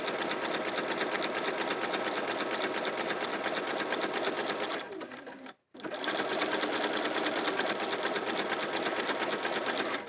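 A sewing machine stitches a fabric bag, a loud, steady mechanical whir running continuously, dipping briefly to near silence midway before resuming at full pace.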